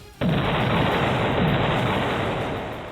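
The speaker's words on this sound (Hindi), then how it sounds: "चीन की सेना ने दुश्मन पर हमला करने में माहिर अपनी तोप का दम भी दिखाया" Artillery cannon firing during a Chinese military drill, a sudden loud blast that sustains as a dense, broadband roar for nearly three seconds before tapering slightly.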